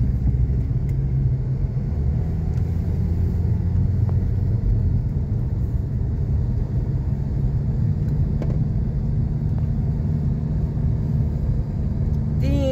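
A car drives along Talisay Road near Tagaytay, its engine and road noise forming a steady low interior rumble that continues without a break.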